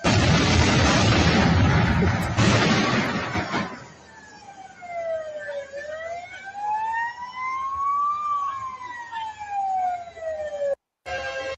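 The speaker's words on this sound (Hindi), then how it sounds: "जैसे ही सायरन बजने शुरू हुए हैं" Air raid sirens sound ahead of a missile strike, first under a loud, dense roar, then alone as a long rising and falling wail that carries across the area.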